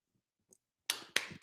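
Three loud hand claps in quick succession, sharp and close, after a near-silent pause with a faint murmur.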